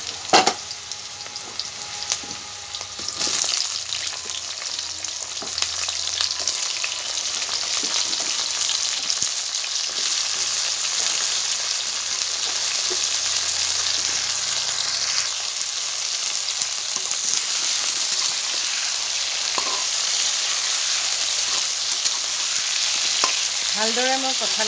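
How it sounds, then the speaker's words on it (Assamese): Jackfruit pieces fry in hot oil with onions in an Assamese-style dish, a steady loud sizzle running throughout with occasional scraping stirs of a spatula. "ভালদৰে মই কঁঠালখিনি অলপ সময় ভাজি লম"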